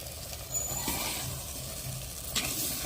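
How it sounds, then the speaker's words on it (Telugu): Potato curry with softened tomatoes is stirred in a hot pan, giving a steady close sizzle with a couple of scraping strokes of the spoon and no talking. "అంతా అయితే కలబెట్టేస్తా కూర అంతా"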